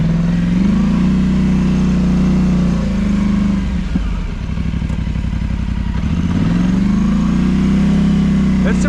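A tracked Polaris Sportsman 850 ATV engine drones loud and close while riding, holding a steady throttle with a brief dip and recovery midway, and someone talks over it.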